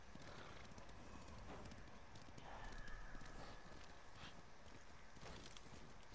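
Horse galloping in the Ghost of Tsushima game: a steady, fast run of hoof clip-clops pushed hard over continuous wind and ambient noise, moderately loud throughout with no talk.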